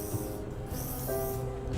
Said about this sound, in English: If you want to, you have to spray carefully along that